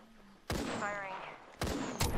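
Video game gunfire, a few loud sharp bursts with crackling decays, close, over a faint background hum.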